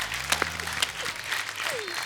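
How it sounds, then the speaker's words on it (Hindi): Studio audience applause on a Hindi comedy talk show, a short burst of clapping with a faint voice and tonal sounds mixed in, fairly loud and close. "जोरदार ताली हो जाए"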